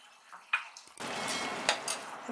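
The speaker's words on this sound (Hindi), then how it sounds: "थोड़ा सा पानी डाल देंगे इसमें।" Water is poured into a pot of rawas fish curry simmering with kokum, a steady close splashing rush that starts abruptly and runs for over a second, with light clinks of metal before it.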